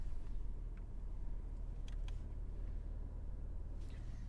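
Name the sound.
Porsche Macan S 2023 engine after pressing sport mode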